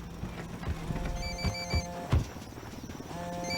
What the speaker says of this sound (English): Phone. That's no IED. It's ringing too much.